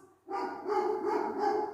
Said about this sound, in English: The dog agrees.